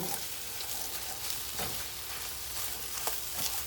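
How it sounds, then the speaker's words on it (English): Eggs and salmon frying in a pan, a steady loud sizzle with crackling pops and brief stirring scrapes throughout, no voices. "you see it's starting to fry like really well"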